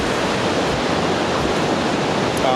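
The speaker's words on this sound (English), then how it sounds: "There's a river down here." A river rushes along the steep Mist Trail below Vernal Falls in Yosemite. It gives a loud, constant broadband roar of churning whitewater, steady and unbroken throughout, with no talking.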